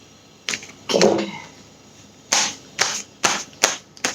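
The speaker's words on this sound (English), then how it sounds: "Sorry, I'm shuffling again." Tarot cards being shuffled by hand, a series of sharp, close riffling snaps and taps, with a longer crackling burst early on followed by several quick separate bursts and gaps of near silence.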